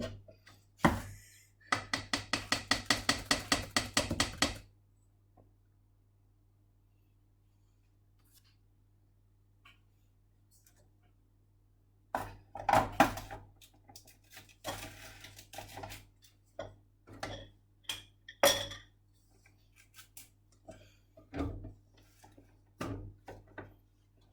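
A kitchen mixer beats sponge cake batter in a steady rapid whirr for a few seconds, then stops, followed by scattered clinks and knocks of bowls and utensils.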